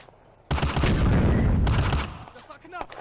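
A Panzer IV fires a HEAT shell at a T-26 tank in the Firefight video game: one loud, close cannon blast rolls into a long rumbling roar that fades over about two seconds.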